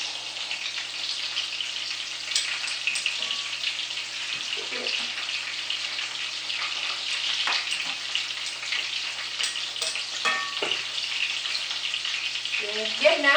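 Vietnamese fish balls deep-fry in hot oil with a steady, close sizzle and crackle lasting throughout, with faint intermittent clatter of utensils over it.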